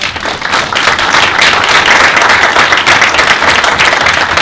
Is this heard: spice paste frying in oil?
no